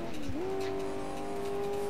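Police car in the video game Alarm für Cobra 11 revving under drive, a steady engine tone that dips then locks onto a sustained higher pitch, loud and alone over a short burst.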